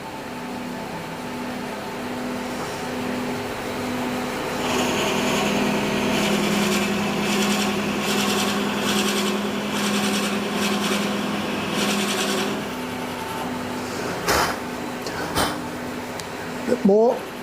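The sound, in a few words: cutting stabilised timber handle, shavings coming off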